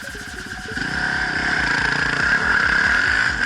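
A Husqvarna TE449 motorcycle is being ridden on dirt trails. Its engine runs steadily and stays loud and close throughout, with a rhythmic thumping drone that rises slightly as the throttle opens.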